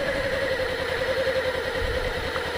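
A Kawasaki Ninja 250R motorcycle engine idling steadily nearby while the bike is walked, a continuous even hum with a slight rhythmic pulse and no talk.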